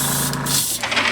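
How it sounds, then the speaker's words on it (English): An airbrush sprays olive green paint onto a custom-painted Slave 1 model, a steady close hiss with a low compressor hum beneath, pulsing briefly before continuing. "I've been spraying this with olive green"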